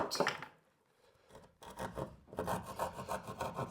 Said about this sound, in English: I can cut it with my Leatherman